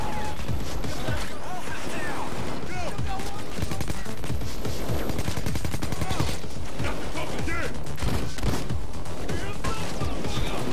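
Rapid bursts of gunfire in the heist video game Payday 2, including pistol shots, loud and dense throughout with players talking over the shooting.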